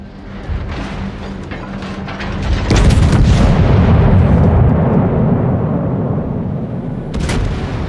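Torpedo explosions in a naval video game: loud booming blasts swell into a long rumbling roar that fades slowly, with a sharp crack near the end, no voices.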